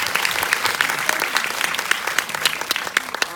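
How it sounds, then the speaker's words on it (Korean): A theater audience at a film premiere screening and talk in Yeouido applauds the director with sustained, lively clapping, crisp individual claps standing out from a continuous close ripple. "박수는 우리 감독이 이제 그만 긴장하시고 한번 쳐드리도록 하겠습니다"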